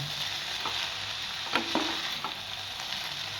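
Pasta is stirred in a hot pan over a steady, close sizzle, with a few soft scrapes of the utensil rising briefly above the frying.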